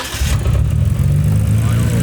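A Nissan GTR engine with rod knock is revved, a loud, close, steady low engine roar that rises after a brief quieter start.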